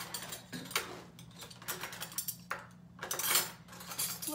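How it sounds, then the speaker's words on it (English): Metal cutlery clinks and rattles in a drawer as someone rummages for a spoon, a run of close, irregular clatters and scrapes with short pauses, no talking. "Looking for my Grammy spoon"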